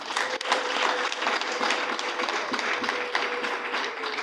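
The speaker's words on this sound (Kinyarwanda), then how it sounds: "mumukomera amashyi" Sustained audience applause at a church gospel gathering, a dense steady wash of many hands clapping close by for several seconds with no talking.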